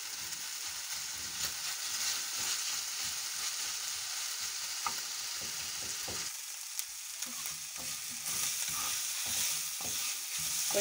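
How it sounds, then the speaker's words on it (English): Onions and beef fry and sizzle steadily in a pan as they are stirred toward golden brown, a dense continuous crackle with occasional scraping of the utensil, close and alone. "Once the beef has dried, I'm going to add the onion. Then cook them until they are golden brown."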